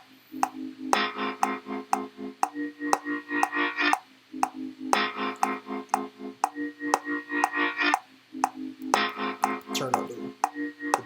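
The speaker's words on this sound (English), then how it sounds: "put a reverb on it" A bright, pinging synth sample plays in repeating phrases, each note ringing out with a reverberant tail that fills the gaps between hits.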